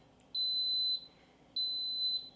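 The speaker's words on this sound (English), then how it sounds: "In just a couple seconds, it's going to beep." An Instant Pot chirps two clear, high electronic beeps of equal length, about half a second each, separated by a brief pause, with a quiet room behind them.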